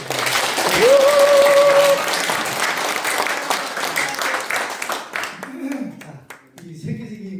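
Audience at a business presentation giving a burst of encouraging applause, loud and dense for about five seconds before thinning into scattered claps and murmuring voices.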